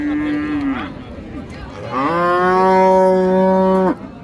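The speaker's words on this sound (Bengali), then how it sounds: "গরু কিন্তু পর্যাপ্ত আছে দর্শক।" Cattle low loudly and close at a rural cattle market in Dinajpur, one short moo and then a long, sustained moo, heard alone with no talk.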